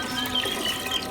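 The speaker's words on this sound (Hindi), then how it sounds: "ते हांडी च शामिल करांगे पानी।" Water pours into a cooking pot set on a village cooking stove, a steady loud rushing gush close by, continuous and alone.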